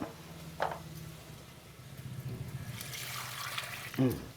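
Fresh mint leaves are rinsed under running water in a home kitchen: a faint hiss of flowing water with a few splashes, and a person talking now and then.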